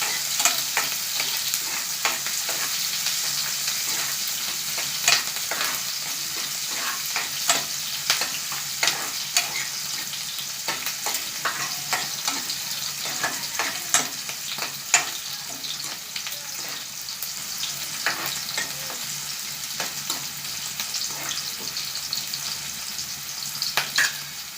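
Chillies fry in hot oil while a spoon stirs them in a pan for Athalakkai poriyal, a continuous sizzle broken by frequent sharp scrapes and taps of the utensil, with no talk.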